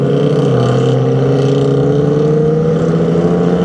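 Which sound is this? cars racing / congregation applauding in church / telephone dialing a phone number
cars racing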